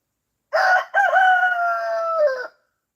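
A backyard homestead rooster crows once loudly and close, a single drawn-out cock-a-doodle-doo of about two seconds that rises and then holds a long, wavering note alone.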